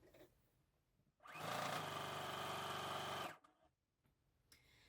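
A sewing machine stitches a straight line down the long edge of a slim strap or button loop, running in one steady, close, continuous burst of about two seconds between quiet pauses.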